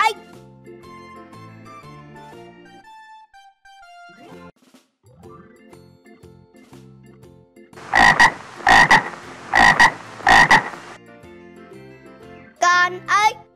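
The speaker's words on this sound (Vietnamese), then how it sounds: "Đây là con ếch." A frog croaking in a children's animal-sounds lesson, four loud rhythmic croaks in a row after soft background music, ending with a short chime.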